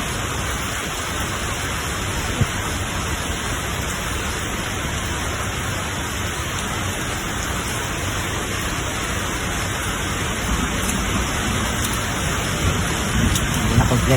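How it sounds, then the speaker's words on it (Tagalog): Steady rain falling, a continuous even hiss of drops that holds at a constant level throughout, with no voices over it. "Umuulan mga idol."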